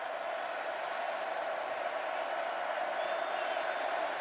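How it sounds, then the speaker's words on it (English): A football stadium crowd at Texas versus Baylor in 2013 gives off a steady distant roar, a continuous wash of many voices at moderate loudness with no distinct cheers. "This crowd is bubbling, is boiling."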